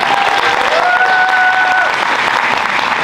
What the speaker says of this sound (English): Let's give a round of applause to our mariachi and our first 2 speakers.